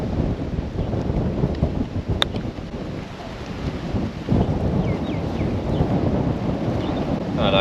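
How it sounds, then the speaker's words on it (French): Strong wind on a golf course by the Indian Ocean buffets the microphone in heavy, rumbling gusts, constant and loud outdoors, with no one speaking. "il y a tellement de vent"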